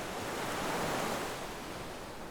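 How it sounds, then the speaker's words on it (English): Sea waves crash and wash onto the shore at night, a continuous broad roar that swells slightly and then eases, heard alone with no voices. "with the sea crashing, yeah, the waves going like they are"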